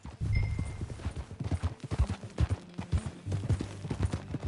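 A horse gallops across terrain in Red Dead Redemption 2, with rapid, rhythmic hoofbeats pounding close by and steady throughout, joined by faint game ambience.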